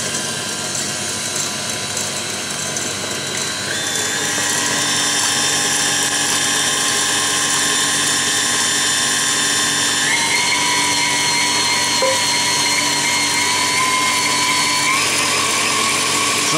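A stand mixer whips egg whites into Italian meringue for macarons as hot sugar syrup at 119 degrees is poured in, a steady close whirring hum whose pitch drops and then rises again as the speed changes.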